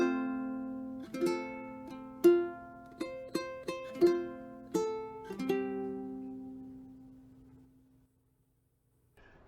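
Slow fingerstyle ukulele notes from the opening of a song, a handful of clear plucked notes ringing one after another close up, then fading to near silence.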